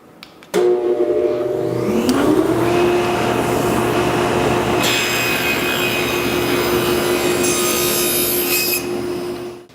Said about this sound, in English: So I left my fence exactly where it was and just raised the blade.